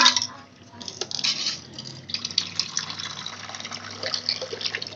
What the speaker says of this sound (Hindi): पानी डाल दिया तेरा भाई